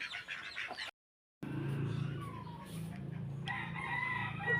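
White chicken in a backyard, a few clucks and crowing calls at moderate distance, broken by a brief silent gap, over low background hum.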